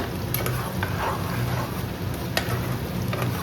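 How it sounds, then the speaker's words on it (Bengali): Onions sizzle in a pan while a utensil stirs them, soft scraping strokes over a continuous frying hiss. "পেঁয়াজটা অ্যাড করার পরে এটা আমি জাস্ট একটু নাড়াচাড়া করে নিচ্ছি"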